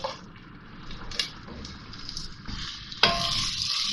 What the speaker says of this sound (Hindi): अब ये प्याज डाल रही हूँ इसमें।